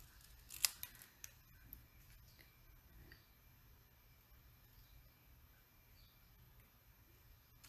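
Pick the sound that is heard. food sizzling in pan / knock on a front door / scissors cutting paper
scissors cutting paper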